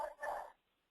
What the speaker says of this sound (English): I hear dog barking.